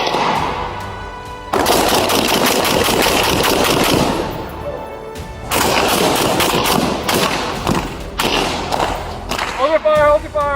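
Police fire less-lethal rounds in rapid bursts during an armed standoff, with loud repeated bangs and thuds in two sustained volleys separated by a brief lull, and shouted commands mixed in.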